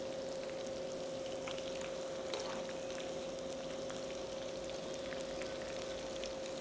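Seer fish (vanjaram) pieces fry in a pan for a fish masala, giving a steady, even sizzle and hiss that continues without a break and without any talk.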